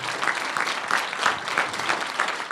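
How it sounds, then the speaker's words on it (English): Steady, dense audience applause for a panel at a talk event, a crowd clapping continuously at moderate loudness with no voices over it. "Please give a round of applause to the panel."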